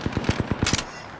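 A fast burst of about seven automatic gunshots in a video game, evenly spaced and punchy, with a short fading tail after the last shot.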